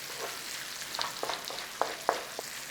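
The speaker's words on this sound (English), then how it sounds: "we are going to fry the potatoes in oil, but we're going to use this bacon fat" Potatoes fry in hot bacon fat with a steady soft sizzle, broken by scattered small pops and crackles, close and fairly quiet.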